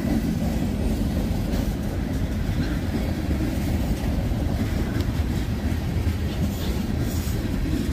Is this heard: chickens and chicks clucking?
no